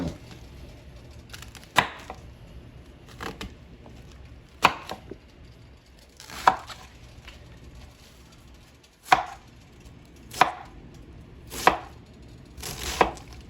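Knife chopping cabbage on a board in about ten sharp, separate cuts spaced a second or so apart over soft background noise, with no talking.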